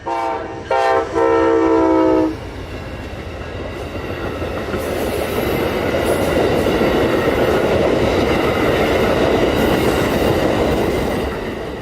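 The Amtrak Silver Star passenger train, New York to Miami, blasts its horn in short and long bursts in Lakeland, Florida, then roars past with a steady rumble and rattling wheels that fade slightly at the end.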